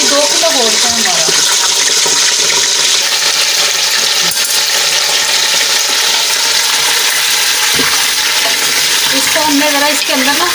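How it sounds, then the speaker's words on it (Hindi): Two kilograms of meat for nihari sizzle loudly in oil inside a pressure cooker, a constant close frying roar with stirring scrapes and clinks, and a voice briefly audible beneath. "तो हमने ज़रा इसके अंदर ना गोश्त को अच्छे से ज़रा भून लेना है"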